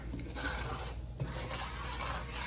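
Flour roux cooking in a pan while a utensil scrapes and stirs it, a continuous close rasping swish with faint sizzle, steady and without pause over a couple of seconds.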